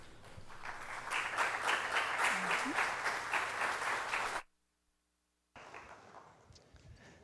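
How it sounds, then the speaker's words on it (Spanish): Strong audience applause fills a conference hall, welcoming a speaker to the stage for a talk on augmented reality for mobile base station maintenance. The dense clapping stays steady for about four seconds, then cuts off abruptly, followed by quieter room noise. "ustedes lo reciben con un fuerte aplauso"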